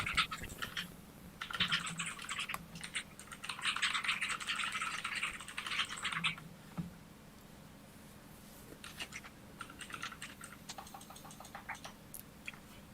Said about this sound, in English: You hear my typing?